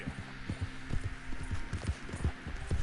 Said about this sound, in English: if you stop, the horse will continue to walk forward a little bit